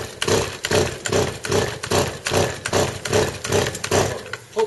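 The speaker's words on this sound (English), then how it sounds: "hopefully the chainsaw starts." A chainsaw engine runs outdoors in a steady pulsing rhythm of repeated revving surges, loud and close, with no talk over it.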